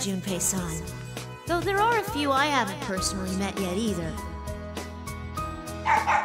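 A dog from the fighting game Persona 4 Arena Ultimax barks and yips several times in quick, wavering bursts, mixed with character dialogue spoken over it.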